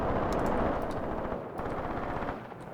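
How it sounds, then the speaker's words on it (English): A mortar salvo in Graviteam Tactics, dense rumbling gunfire from a distant battlefield rolling on continuously with a brief dip midway, loud and without voices. "The mortar has shot the whole salvo."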